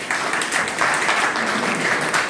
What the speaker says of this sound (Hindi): आप फिर से ताली बजाइए